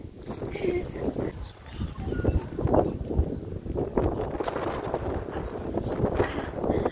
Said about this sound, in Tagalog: Medyo malakas talaga ang hangin ngayon dito sa labas.